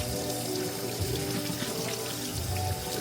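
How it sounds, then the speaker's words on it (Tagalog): Tap water runs steadily into a pot being filled for boiling, a continuous close splashing stream with no talk over it. "Papakulo na ako ng tubig."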